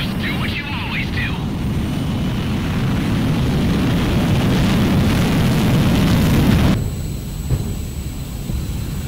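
A fighter jet takes off in the Ace Combat 6 video game: a loud, rising roar of jet thrust builds, then cuts off abruptly, and voices speak over the start.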